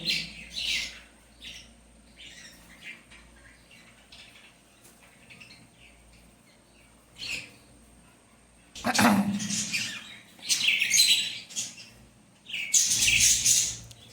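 Baby birds chirp from inside a pot, in bursts of high, bright tweets that grow louder toward the end, with quieter calls and a human voice earlier on.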